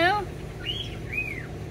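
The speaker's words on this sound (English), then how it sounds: "we're hearing another bird do the whistle. The cat call whistle, isn't it hilarious?" Pet bird giving a cat call whistle, two rising-and-falling whistled swoops heard clearly after a short bright chirp at the start, over a low background hum.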